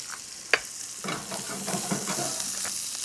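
Onions fry and caramelize in a pan, one sharp clink at first, then a rising steady sizzle with soft stirring scrapes, close and continuous.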